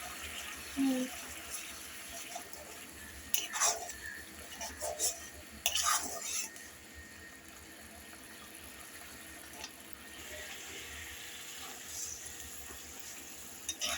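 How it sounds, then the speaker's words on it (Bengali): A spoon stirs and scrapes masala mixed with curd and cashew paste in a pan, producing intermittent metallic clinks and scraping over a faint sizzle, with a few louder knocks in the first half. "দেখুন এবার এই মশলাটা আবার কষাবে।"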